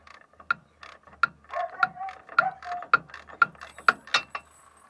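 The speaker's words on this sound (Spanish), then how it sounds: "como veis ya vamos aflojando el primer perno" A ratchet wrench clicks in a steady series of sharp ticks while loosening a bolt on a Nissan D22 axle, close and fairly quiet, with faint grinding strain between clicks.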